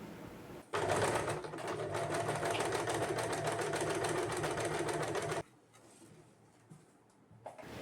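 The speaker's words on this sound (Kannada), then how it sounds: "ಬನ್ನಿ ಹಾಗಾದರೆ ಸ್ಟಿಚ್ ಮಾಡೋಣ ಹೇಗೆ ಬರುತ್ತೆ ಅಂತ ತೋರಿಸ್ತೀನಿ" A simple home sewing machine runs fast with a steady, dense whirring chatter while stitching embroidery with ordinary thread. It starts abruptly, holds an even rapid rhythm for about five seconds, then stops, leaving quiet room noise and faint handling sounds.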